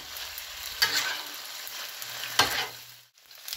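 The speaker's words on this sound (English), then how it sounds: "going to take my spatulas and I'm going to mix this well" Goulash of tomato, meat, peppers and onions sizzles steadily on a hot griddle while metal spatulas scrape and stir it, with two sharper scrapes standing out close up.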